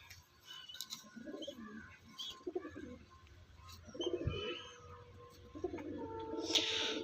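Fancy pigeons at a pigeon sale in Uluberia coo in soft, low repeated bursts close by, with a few chirps and rustles between the calls.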